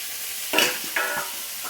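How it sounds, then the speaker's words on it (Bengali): Potatoes frying in a pan, a steady sizzle with two brief louder bursts of spatter or stirring, close and alone with no voices. "এখানে আলু ভাজতে বসিয়ে দিয়েছি"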